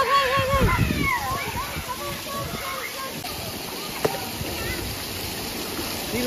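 Water rushes and splashes at a children's water play area during an eighth birthday celebration, with sloshing surges up close and people calling out over it.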